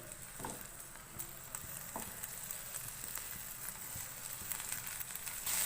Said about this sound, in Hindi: कुछ सेकंड के लिए इसको चिकन के साथ फ्राई करेंगे।